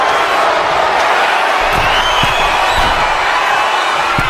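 A wrestling arena crowd in WWE 2K25 cheers loudly and continuously during the Umaga vs. John Cena New Year's Revolution 2007 showcase match. A few sharp thuds and slams punch through the constant roar.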